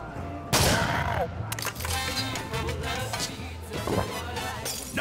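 Video game gunfire, sharp loud shots and bursts in a busy combat mix, with brief game voice lines.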